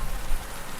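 Steady rain falling in an audio drama scene, a continuous soft hiss of drops spread evenly with no voices and no break in the patter.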